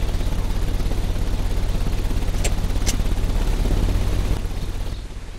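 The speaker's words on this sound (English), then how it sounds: "The ventilation system is working." A ventilation system runs with a steady, loud mechanical roar and deep hum in the Sherlock Holmes: Crimes and Punishments video game, broken by a couple of brief clicks and fading slightly at the end.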